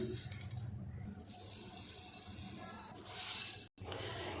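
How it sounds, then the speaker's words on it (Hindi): Running water splashes steadily into a vessel while basmati rice is swished and rinsed in it, with a brief gap near the end. "इनको हम अच्छे से धो लेते हैं खुले पानी में"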